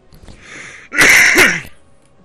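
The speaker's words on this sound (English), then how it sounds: "Sorry if my coughing's annoying" A person coughs and clears their throat in one short, harsh burst, close and loud, with faint hoarse breathing just before.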